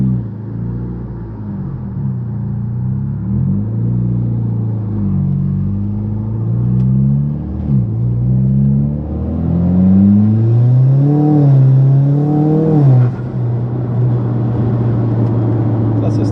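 Mitsubishi Evo X on an E85 tune with a bigger turbo making a half-throttle pull onto boost, engine note climbing and shifting through gears with a loud steady rumble, heard from inside the car.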